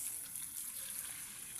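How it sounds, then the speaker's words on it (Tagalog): Water poured into a pot of vegetable soup with pancit noodles, a steady hissing gush that runs evenly without a break for its short length at low level, with no talk over it. "Tapos lagyan natin ng tubig."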